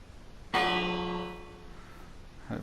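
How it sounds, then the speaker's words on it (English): A village bell in Minecraft rings once with a loud, bright clang that hums and slowly fades, followed by a faint second sound at the very end. "We've got a nice bell, so let's ring the bell."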